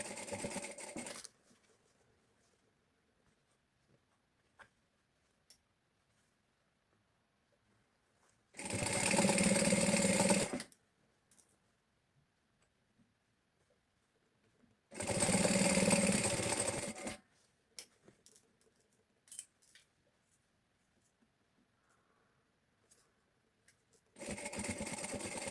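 Sewing machine stitching a bag seam at presser-foot width, running in three loud bursts of about two seconds each, separated by quiet pauses.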